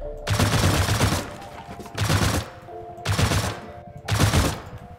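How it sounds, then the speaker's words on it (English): Four loud bursts of rapid video-game gunfire aimed at a twig in a ceiling, each volley lasting about a second with short gaps between, close and harsh. "I want to shoot this twig out and see if we can actually make the ceiling collapse."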